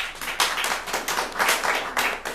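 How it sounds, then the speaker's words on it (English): An audience at a meetup at the Hideout claps hands together, a dense, steady patter of many overlapping claps lasting a couple of seconds at moderate loudness, with no voices over it. "Clap your hands if you've been here before."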